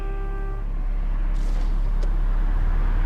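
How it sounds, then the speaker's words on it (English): Car in a video game driving past over a steady, loud engine and road rumble, with a brief whoosh as it goes by. "Car."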